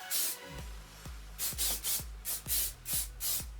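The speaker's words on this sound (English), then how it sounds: "So I'm just going to spray that." Several short bursts from an aerosol can of hairspray, each a sharp hissing spray with a click at the start, fired in a quick, uneven rhythm close by.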